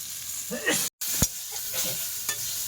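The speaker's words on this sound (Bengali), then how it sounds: "এই যে তরকারি কষাই হয়ে গেছে" Elephant foot yam curry with onion, salt and turmeric stir-fried in a pan, with a ladle scraping and clanking over a soft sizzle in short irregular strokes and a brief break partway through.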